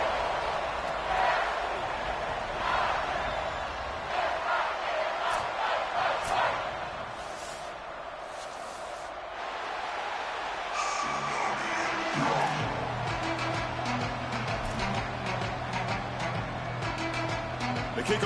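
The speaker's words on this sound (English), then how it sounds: "this home crowd is making it tough for the away team" A home crowd roars in the stands at a college football playoff game, a broad sustained din of cheering and shouting that dips briefly midway and then surges again, with rhythmic chanting or band beats joining toward the end.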